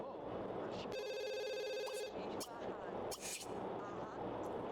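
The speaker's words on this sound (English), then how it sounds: "Phone is ringing." Telephone ringing in The Sims 2 video game, a bright electronic ring sounding for about a second amid busy game ambience and background sound, fairly quiet in the mix.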